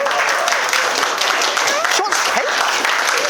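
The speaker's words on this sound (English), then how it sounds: "Just one big round of applause for my brother." Guests applaud after a speech at a wedding-style celebration, steady close clapping from a room full of people with some chatter and calls underneath.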